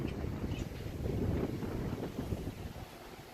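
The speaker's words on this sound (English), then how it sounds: "So wind's picking up." Wind picks up ahead of a thunderstorm, buffeting the microphone with a steady low blustery roar that swells and eases slightly over a few seconds, with no voices.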